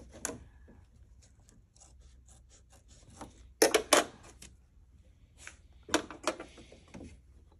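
Scissors trimming fabric held in an embroidery hoop, a few separate crisp snips and rustles, close and fairly quiet, with short pauses between cuts.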